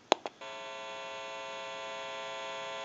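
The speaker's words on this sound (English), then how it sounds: "press the button, and you might be able to pick up a little bit of an electrical hum" Steady electrical hum from the open amplifier of a BellSouth Trimline telephone, starting after two short clicks of a button press and holding evenly at a moderate level to the end.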